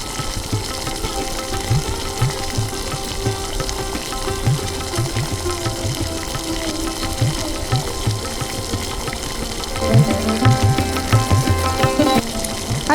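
Water poured into a cooking pot of mutton and potato curry, a continuous splashing gurgle under a bubbling, sizzling background, growing slightly louder toward the end, with no talk.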